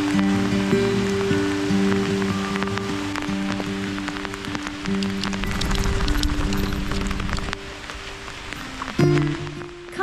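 Steady rain patters on a surface, a dense hiss of drops running throughout, with a low tonal hum lingering underneath.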